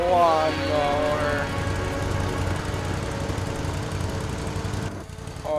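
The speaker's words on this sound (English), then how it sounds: "yeah, a lawnmower." A lawn mower in Lego Worlds runs with a continuous rough engine rattle and chugging vibration, with a wavering higher tone over the first second and a brief drop near the end.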